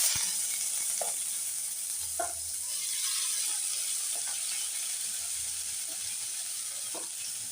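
Boiled vegetables fry in oil in a wok, giving a steady close sizzle with occasional light clicks of stirring throughout, and no voices.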